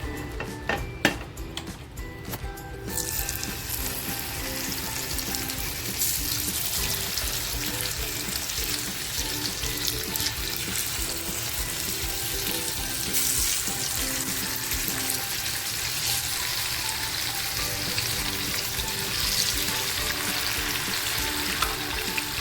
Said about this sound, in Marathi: ही करली आहे ना मी हाफ फ्राय करणार आहे